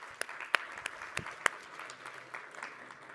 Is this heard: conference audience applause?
yes